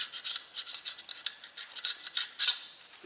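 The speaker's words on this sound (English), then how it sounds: "scrape the old gasket out of here" Old gasket material is scraped and brushed off a Mercury boat outdrive housing after 20 years, making a steady, bright rasping with rhythmic back-and-forth strokes, close and moderately loud, without talking.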